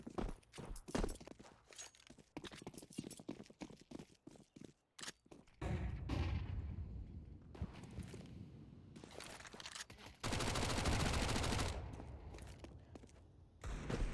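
Counter-Strike match on the Mirage map: rapid bursts of SMG gunfire crackle and clatter in quick succession, followed by a grenade blast and a loud sustained roar of explosions and more firing, heard fairly close with no talk.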